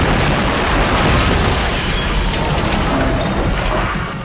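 A powerful mock explosion set off for a film's stunt scene in Jerusalem, a loud sustained roar and rumble that holds strong for several seconds before slowly tapering off, with no voices.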